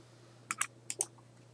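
A cat steps on a computer keyboard, giving two quick pairs of close, light key clicks over a low steady hum.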